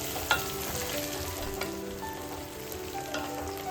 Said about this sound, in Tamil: சின்ன வெங்காயம் சேர்த்துக்கலாம், வரமிளகாய் சேர்த்துக்கலாம். சேர்த்து நல்லா கிளறி விட்டுக்கலாம்.